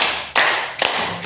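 Sharp hand claps in a counted classroom clapping game, about three distinct claps spaced evenly across a short stretch, close and fairly loud with no talk.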